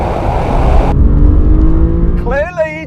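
A BMW M3, a Mercedes-AMG C63 and an Alfa Romeo Giulia launch in a drag race, a loud close engine roar that shifts abruptly, then a rising whine, with a voice commentating over it.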